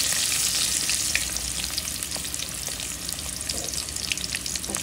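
Tomatoes hit a hot pan and fry with a loud, steady sizzle, crackling and spitting with small pops and a little stirring, with no voices.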